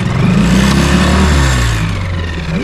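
An outboard boat motor, lowered into the water and in neutral, started without the choke, running loud and close as a steady, throaty drone that holds throughout with slight shifts in pitch.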